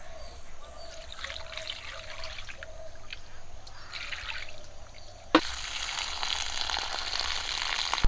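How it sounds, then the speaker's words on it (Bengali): Raw chicken pieces being rinsed clean: a faint trickle of water at first, then a sudden louder, steady gush of running water continues to the end. "জল দিয়ে পরিষ্কার করে ধুয়ে নেব"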